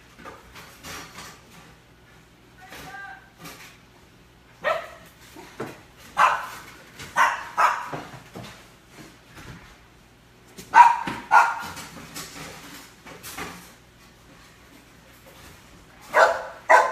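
A dog barking across the street at a school, scattered sharp barks and yips in irregular clusters, moderately distant, alone over quiet background.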